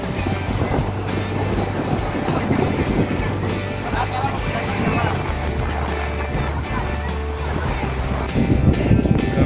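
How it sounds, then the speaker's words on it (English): Rough sea at the ocean shore at Dhanushkodi, Rameshwaram, Tamil Nadu, with waves splashing and surging in a continuous roar, mixed with wind buffeting the microphone and faint voices in the background. "Splashing."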